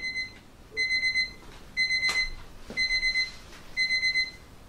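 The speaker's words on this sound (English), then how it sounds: "And timer is finished." An Alexa timer alarm goes off while a coconut chiffon cake bakes, sounding five evenly spaced groups of quick high beeps, moderately quiet, with a couple of soft clicks between groups.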